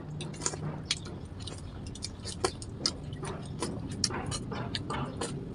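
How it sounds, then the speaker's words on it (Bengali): Someone eating rice with curry by hand, chewing up close with soft wet squishes and irregular clicking bites, quiet and without talk. "হাত দিয়েই খাচ্ছি, চামচ নেই নেই।"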